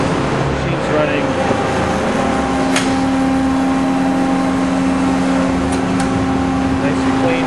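A Pines Model AD 35 CNC tube bender runs in a workshop, a steady mechanical hum with a constant tonal drone and faint clicks, close and unchanging throughout.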